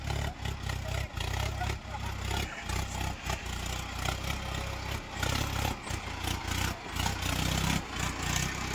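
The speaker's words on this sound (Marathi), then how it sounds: "ते चालले ट्रॅक्टर घेऊन वर" A tractor engine labours as it climbs uphill on a temple road, a steady mid-pitched drone with people talking over it.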